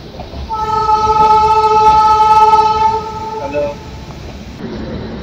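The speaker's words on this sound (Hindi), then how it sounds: "अब ट्रेन चालू हो गया" A passenger train pulls away from a station on a pilgrimage journey from Varanasi, its horn holding a steady loud tone for about three seconds, then fading into rumbling rolling noise.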